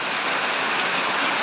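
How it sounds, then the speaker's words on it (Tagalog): Heavy rain falls in a steady, dense hiss on a cold afternoon, loud and continuous with no voices over it. "Kusog kayong ulan, bugnaw kayong panahon"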